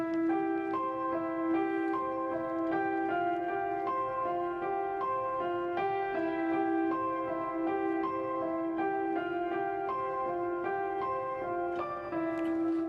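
A repetitive keyboard pattern runs over a chord progression, with steady melodic notes and sustained harmonies played continuously at an even level with no talking.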